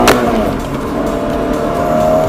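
A Toyota FT86 Rocket Bunny accelerates hard in first gear, its engine note loud and continuous and rising steadily throughout.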